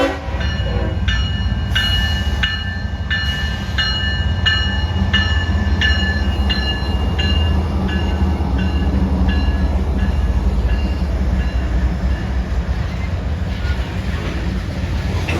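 A freight locomotive's horn blares loud and repeatedly in long, harmonic blasts over a continuous heavy rumble of rolling rail cars passing close by.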